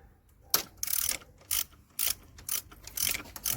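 A socket wrench ratchets on the alternator bolts of a BMW: several short bursts of quick metallic clicking, close and crisp, separated by brief near-silent pauses, with no voices.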